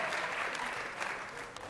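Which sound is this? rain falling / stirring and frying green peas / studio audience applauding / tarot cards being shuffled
studio audience applauding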